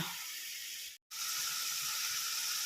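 Cumin seeds and spices frying in hot oil in a home kitchen, a steady bright sizzle that cuts out for a split second and then resumes just as strong.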